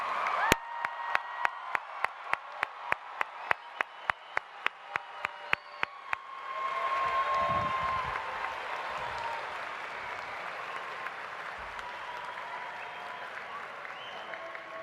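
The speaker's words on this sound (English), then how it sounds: "Let's give one more round of applause for the class of" A graduation ceremony audience for the class of 2019 breaks into applause and cheering after a run of sharp, evenly spaced single claps, the crowd noise swelling then settling into a steady distant wash.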